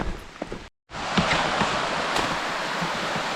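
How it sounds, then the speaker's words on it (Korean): Rain-swollen stream spreading flat across a mountain valley on Byeokbangsan in Tongyeong, a steady, close, broadband rush of water that starts after a brief silent gap. "계곡이 이렇게 평평하게 물이 쫙 흐릅니다"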